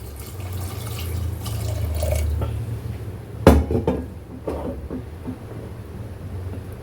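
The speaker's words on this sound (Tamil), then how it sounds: "இதில் தேவையான அளவு நம்ம தண்ணி விட்டுறலாம்." Water pours and splashes into a pressure cooker while making cabbage kootu, with a metallic clank and some sloshing, then quieter trickling.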